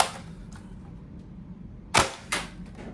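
A Dart Zone Aeon Pro X foam dart blaster fires two quick, sharp shots close together near the end, after a stretch of quiet background hiss.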